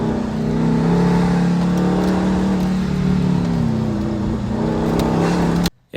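A Factory Five 818 sports car pushed hard around an autocross course, its engine droning loud and steady with tonal harmonics from an onboard perspective, cutting off abruptly at the very end.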